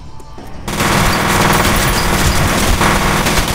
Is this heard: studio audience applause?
no